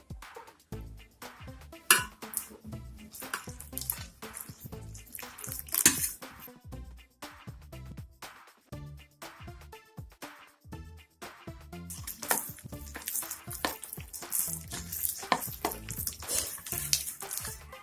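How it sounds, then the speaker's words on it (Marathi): Gram flour batter for potato bhaji being mixed with water by hand, giving irregular wet squelches, splashes and drips that come close and fairly loud, with no talking. "आता आपण हे पीठ भिजवून घेऊया."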